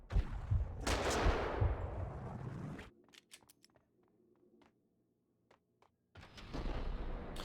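Dragunov sniper rifle fire in the PC shooter Max Payne 2, with heavy gunfire bursts at the start and end, separated by a near-silent stretch of sparse sharp clicks and cracks.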